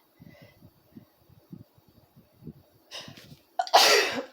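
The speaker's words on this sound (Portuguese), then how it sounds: "E os espirros fazem parte." A single loud, explosive sneeze from someone with allergic rhinitis bursts out near the end, preceded by a short sharp intake and faint, rhythmic quiet noises.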